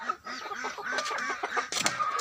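Black-winged chickens cluck softly and repeatedly nearby, a steady run of short throaty calls mixed with a few higher squawks and some rustling.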